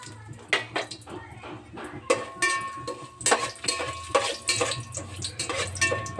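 Whole spices such as bay leaf, black stone flower, two cloves and two cinnamon pieces being stirred in a vegetable biryani pot, with repeated scraping clinks of a ladle against metal and a soft sizzle underneath, close and steady.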